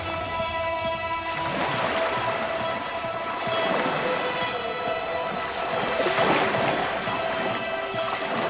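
Steady heavy rain with low rumbles of thunder during a storm in the game Caligo, a dense continuous wash of downpour near and fairly loud, with no voices.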